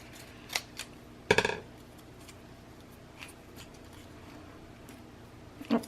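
Scissors snip through watercolor paper in a few brief, separate cuts, with one louder crisp snip among quieter ones, close and alone in a quiet room.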